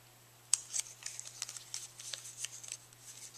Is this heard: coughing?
no